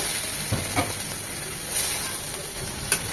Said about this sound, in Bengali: একটু পানি দিয়ে মশলাগুলো ভালোভাবে কষিয়ে নেব